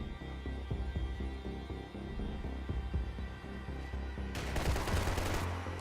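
Rapid bursts of gunfire in Max Payne 3, repeated sharp shots in rhythmic volleys over a low hum, ending in a louder, denser flurry of shooting.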